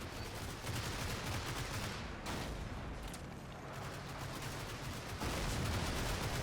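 Gunfire in the wargame Combat Mission: Fortress Italy, Three Peaks scenario, a faint, dense crackle of rifle and machine-gun fire with distant booms rolling on without pause.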